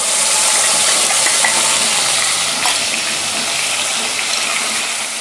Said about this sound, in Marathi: तर मिक्सरच्या भांड्यामध्ये थोडंसं पाणी टाकून भांडं पण विसळून घेतलेलं आहे।